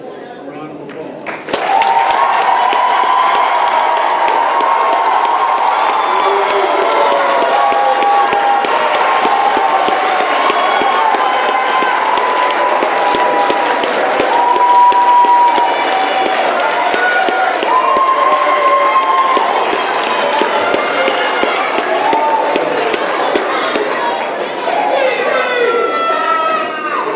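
A school audience claps and cheers for the 2013-2014 8th grade class. Loud, dense applause breaks out suddenly and holds steady, with whoops and shouts over the clapping.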